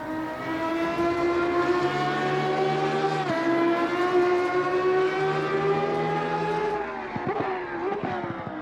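An Italian GT race car engine in the racing game Assetto Corsa Competizione howls at high revs, a loud sustained tone with a sharp downshift blip midway and rapid gear changes near the end.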